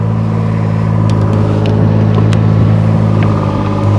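Vehicle engine rumbles and pulls away after shifting into forward, a loud steady low drone that builds slightly as it accelerates, heard from inside.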